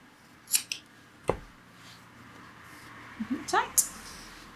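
Scissors snip through a braided cord with a couple of sharp, close cuts, followed by a quieter pause and then a quick cluster of crisp snipping and clicking sounds, with talking in the background.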